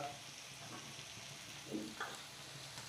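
Bitter gourd curry spices dropped into hot oil in a pan give a soft, steady sizzle and crackle throughout, fairly quiet and close, with a couple of brief clicks of a utensil.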